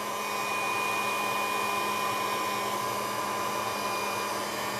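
A heat gun or hair-dryer-style blower drying paint on a mixed media altered MDF panel, a steady, loud, continuous whooshing roar with a faint motor whine that holds constant throughout, with no voices.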